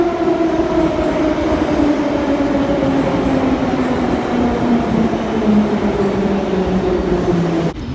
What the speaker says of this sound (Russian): Мы сейчас заходим, ребята, в поезд.